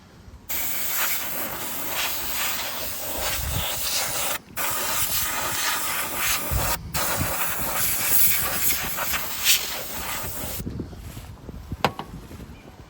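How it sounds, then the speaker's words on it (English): Compressed air blasting dust out of a PC case in loud, close hissing bursts, with two brief pauses and quieter moments toward the end. "Spray out some of the back here."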